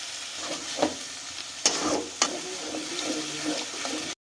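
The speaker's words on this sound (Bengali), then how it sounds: "এই মশলাগুলোকেও আমরা খুব ভালোভাবে কষিয়ে নিচ্ছি" Soft sizzling of spices frying in a pan, broken by a few sharp utensil knocks and scrapes while stirring.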